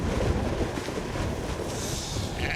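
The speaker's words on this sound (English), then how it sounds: "It's quite windy out here at the moment" Steady wind roars and buffets outdoors at a wild camping spot in the UK, a continuous low rumble with no let-up and no voices.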